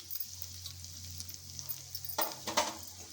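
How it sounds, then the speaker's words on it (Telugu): Turmeric is stirred into ginger-garlic paste frying in oil for raw mango pulihora, giving a steady soft sizzle with a low hum beneath, then a few louder scraping stirs near the end. "పసుపు వేసుకున్నాక కలుపుకోవాలి ఈవెన్గా."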